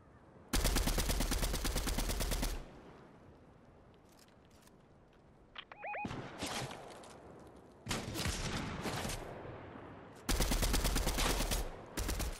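Rapid automatic gunfire from a shooter video game bursts out loud in three long volleys, with quieter single shots and clatter in the gaps between them.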